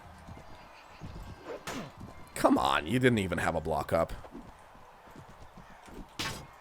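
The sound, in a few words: horse hooves in a video game (Warband mod)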